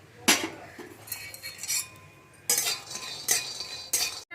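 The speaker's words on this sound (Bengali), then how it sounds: "এই চিনে বাদামগুলো প্রথমে কাঠখোলায় খুব ভালো করে ভেজে নেবো" Peanuts are dry-roasted in an earthen pan, with close, irregular bursts of scraping, rattling and clinking as they are stirred, separated by quieter gaps.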